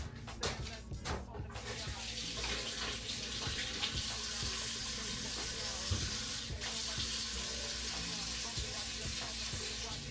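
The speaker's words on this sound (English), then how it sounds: "give me a second to wash my hands." Water runs steadily from a kitchen sink tap while hands are washed, a continuous close splashing hiss over a faint low hum, with no voices.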